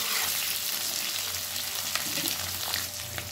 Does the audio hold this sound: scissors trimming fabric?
no